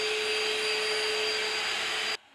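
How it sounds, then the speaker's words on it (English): A Shark Vac Mop vacuums a floor with suction, running as a loud, steady whirring roar close by, then cutting off abruptly near the end. "the Vac Mop has suction. So if I do this more difficult area, you can see how much better the Vac Mop works"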